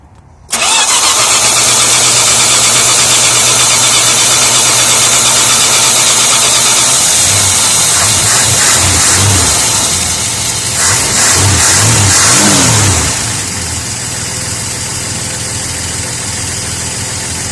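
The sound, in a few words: car engine cranking and starting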